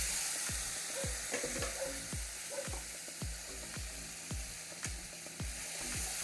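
Kochur loti (taro stolons) and potatoes frying in a pan of spice masala, with a steady sizzle and regular scraping stirs of the spoon roughly every half second, close and clear, no talking.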